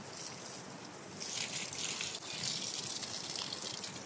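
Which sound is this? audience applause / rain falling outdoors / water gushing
water gushing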